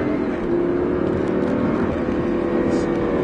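A car engine revs hard and steady during a driving course at the Folembray circuit. The sound stays loud, close and continuous, with faint voices beneath it.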